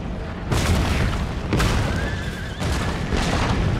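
Cannon artillery volleys boom across a battlefield in Empire Total War during a siege against Prussia, several heavy broadband blasts rolling one after another at steady loudness, with no voices over them.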